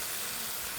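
Cumin seeds crackle and hiss in hot oil, a dense, steady sizzle filling the whole brief moment at close range.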